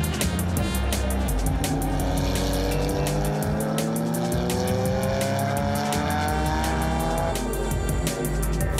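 A Porsche 911 and a Lotus Elan race cars battling, engines howling and rising through the revs together, with rapid rattling bursts and loud continuous noise throughout.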